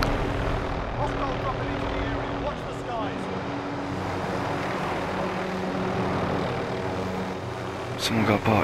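Helicopter in an online shooter video game with a steady rotor and engine drone running throughout, as players talk over it.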